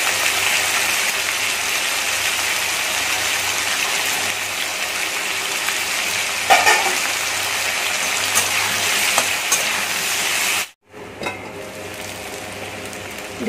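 Potatoes frying in a pan give a steady, dense sizzle that runs loud and close for most of the stretch, breaks off abruptly near the end, then returns.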